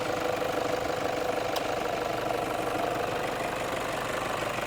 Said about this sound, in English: There's the D-4D clattering, idling away perfectly.